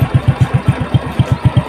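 A Honda Astrea Legenda motorcycle with a carbureted engine and original exhaust idles steadily close by, its single-cylinder putter beating in an even, fast rhythm with no one speaking.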